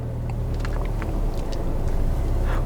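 A car engine revs harder as it climbs a steep ramp while pulling forward into a 90-degree parking bay, a steady loud low rumble running throughout with faint wind noise and no talk.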